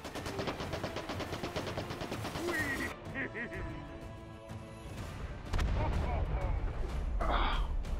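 Assault rifle gunfire in the VR shooter Hot Dogs, Horseshoes & Hand Grenades, rapid bursts of close, loud shots in dense runs, then a pause and heavier blasts, with a player's voice partly over the firing.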